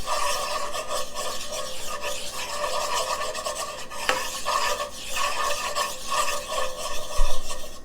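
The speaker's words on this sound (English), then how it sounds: "You can whisk this or just stir this in." Flour stirred into melted butter in a pan for a vegan Swedish meatball sauce, a steady close scraping and rubbing of the utensil over a constant sizzle, with one sharper clink near the end.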